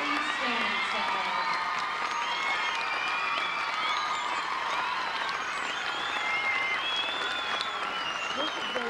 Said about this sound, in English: we'll give them a great big round of applause